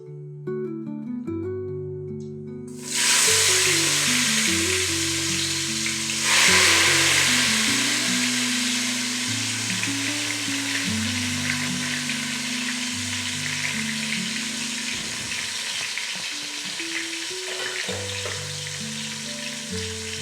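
Tomatoes hit a hot pan for a chicken dum biryani and break into a loud, steady sizzle and hiss that carries on under a soft background music track.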